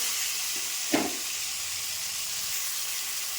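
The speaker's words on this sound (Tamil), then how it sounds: "தக்காளியை எண்ணெய் ஊற்றி நல்லா வதக்கி இருக்கிறேன்" Tomatoes sauté in oil in a pan for tomato kuzhambu, making a steady, close hiss and sizzle, with one brief clatter near the start.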